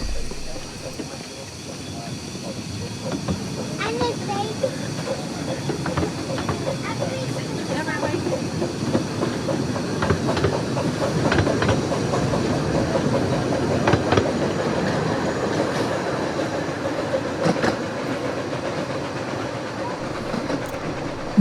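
A Ravenglass and Eskdale Railway train rumbles steadily along the tracks with faint rhythmic clacking, while someone talks over the continuous rolling noise.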